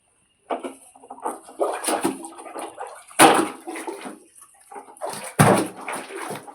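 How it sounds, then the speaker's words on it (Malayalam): Water tipped from a bucket into a well splashes in several close bursts, each surge rising and falling, with short pauses between pours. "ബക്കറ്റിലെ വെള്ളം കിണറ്റിലേക്ക് ഒഴിച്ചു"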